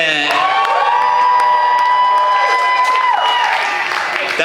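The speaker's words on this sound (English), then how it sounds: "Y'all let Carl Weezer hear it" A crowd at a talent show in a brewery cheers, whoops and applauds loudly and continuously, with shouting voices rising over the clapping throughout.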